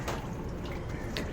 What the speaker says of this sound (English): The water from the upper tub, it's going to pick up oxygen and fall into the lower tub